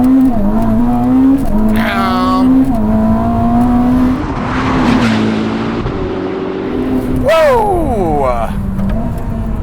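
A 986 hp all-wheel-drive hybrid Ferrari SF90 Stradale holds a loud, droning engine note, then launches hard with rising, whining surges of acceleration. It sounds close, with people talking over it.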